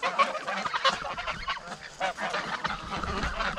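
Geese honking repeatedly while a farm flock is herded toward a pen, a busy overlapping chorus of calls close to the microphone with no voices over it.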